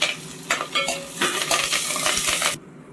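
Green chillies, chopped onion and fresh curry leaves sizzle hard in hot oil in a pan, a loud crackling hiss with bursts and utensil stirring that cuts off sharply near the end.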